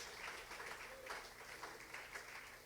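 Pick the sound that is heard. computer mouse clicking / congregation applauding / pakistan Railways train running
congregation applauding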